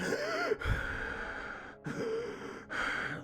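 A voice imitates the heavy breathing of Michael Myers from a video game, three long, loud, raspy breaths heard up close with short silent gaps between them.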